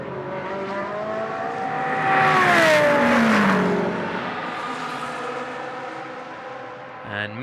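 GT race cars lapping a circuit during free practice at a Blancpain Sprint Series round in Moscow, engines whining and rising to a loud passing peak before fading, under steady commentary.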